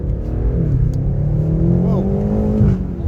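A 2020 BMW M8 in Dravit Grey Metallic on 20-inch M wheels accelerates hard, its exhaust a loud, close, deep throaty roar that climbs and falls in pitch through the revs, with people's voices over the engine.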